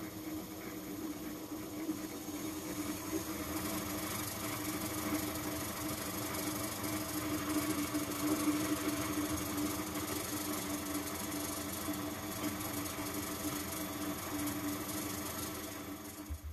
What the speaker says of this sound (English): put some wax on, just gonna buff it in now.